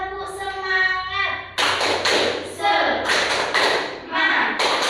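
An elementary fifth-grade class performs the rhythmic 'tepuk semangat' spirit clap: an adult voice speaks first, then several loud, close bursts of group clapping follow in a patterned rhythm, with children's voices mixed in.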